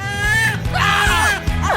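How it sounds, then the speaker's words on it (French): Loud, shrill screaming and wailing voices fill the whole span in a comedic chocolate fondue food challenge, with several rising and falling cries overlapping in rapid succession. "C'est quoi ces cris?"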